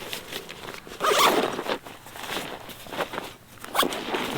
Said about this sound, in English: Really nice zip.